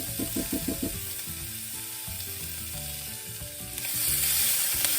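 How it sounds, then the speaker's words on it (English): Spices, mustard among them, frying with bacon and onions in a pan, with a steady hiss of sizzling fat and a few scraping stirs, close up and without talk. "And now start cooking the spices in there with that bacon and the onions."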